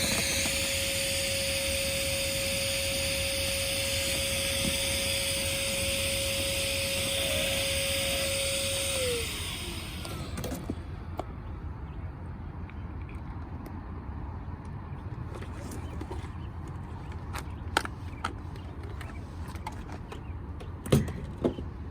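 Electric pump drawing air out of an Advanced Elements Airvolution inflatable kayak, a steady loud motor whine for about nine seconds that cuts off, followed by quieter scattered creaks and rustles of the deflated hull.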